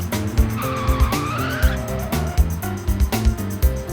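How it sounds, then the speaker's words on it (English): Monster trucks drive fast with revving engines, roaring and whining over heavy thuds and crashes in a loud, busy stretch with no speech. "Vroom is the sound the trucks make when they drive very fast."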